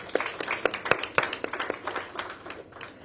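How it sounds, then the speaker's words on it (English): Scattered audience clapping at a book launch event, a modest handful of distinct claps from a small crowd, moderately loud and fairly sparse, tapering off toward the end without speech. "he deserves a round of applause for that"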